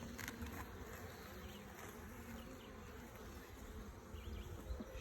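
Italian honeybees swarm around an opened hive during an inspection, a dense, steady buzzing hum that stays close and continuous throughout, with no talking.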